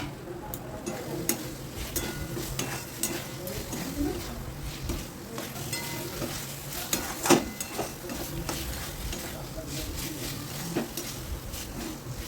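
Fried potatoes tipped into a spiced crab curry masala in a pan, a low continuous sizzle with scraping stirs and occasional clinks of utensil on metal, close and moderately loud.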